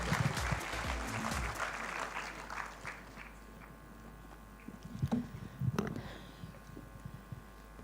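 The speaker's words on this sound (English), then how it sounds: "I give you on stage our guest of honor with a big round of applause, Dr. Madhukar Garg." Sustained applause from a crowd, loud at first and gradually thinning out, with a few scattered claps and faint murmurs near the end.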